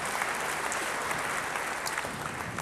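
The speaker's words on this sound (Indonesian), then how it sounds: "Beri tepuk tangan yang baik bagi dia." A church congregation breaks into steady applause during a sermon, a dense, even wash of many hands clapping at a moderate distance.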